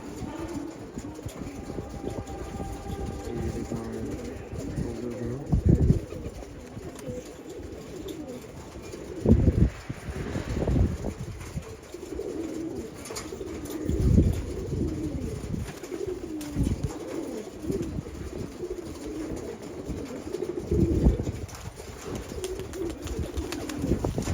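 Pigeons, males and females kept together, coo repeatedly at close range in deep, throaty rolling bursts, with a faint background hum beneath.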